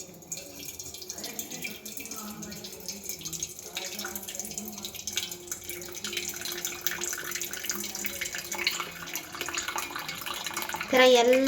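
Water drains off boiled vermicelli for payasam in a continuous splashing, gurgling pour with scattered drips, close and fairly steady, with a voice talking over it.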